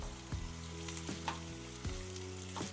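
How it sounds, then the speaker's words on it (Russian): Chopped onion fries in vegetable oil and butter in a pan, giving a steady close sizzle with a few soft stirring scrapes. "Сначала отправляю обжариваться лук до легкого золотистого цвета."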